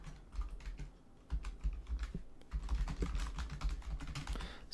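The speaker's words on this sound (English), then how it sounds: "And then I'm going to type this out." Rapid typing on a computer keyboard, entering all-caps text in a GIMP image editor, with quick, irregular clusters of close keystrokes throughout and no talking.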